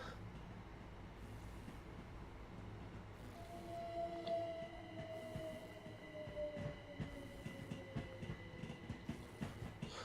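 A class 377 commuter train departs a station in the simulator game Train Sim World 2 on the London commuter line, with a low rumble, rising electric motor whine and rail clatter, moderately quiet and steady, no voices.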